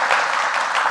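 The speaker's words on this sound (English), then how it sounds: "let's receive them with a round of applause" Brief burst of audience applause at a business panel event, a dense patter of clapping hands heard alone for under a second.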